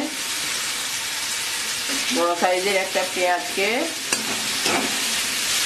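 Onion paste sizzles and fries in hot oil with ginger-garlic for a pomfret fish curry, a steady close hiss with stirring, while someone talks over the cooking.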